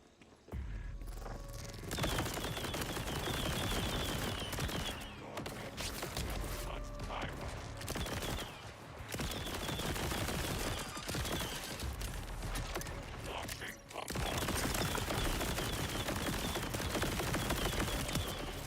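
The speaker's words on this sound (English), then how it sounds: "I love this SMG so much," Sustained rapid SMG fire in the Borderlands 4 video game, dense loud bursts that run almost continuously with a few short breaks, layered with game effects.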